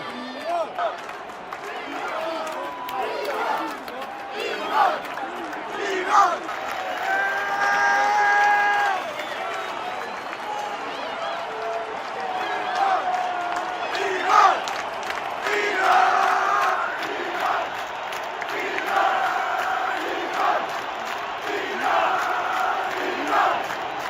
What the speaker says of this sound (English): Listen to this stadium now.